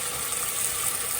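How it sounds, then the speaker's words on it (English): An electric kettle boils in a home kitchen, a steady broadband rushing hiss with a bright high-pitched edge, continuous and fairly loud with no talk over it. "Just excuse the noise in the background. That's a kettle boiling."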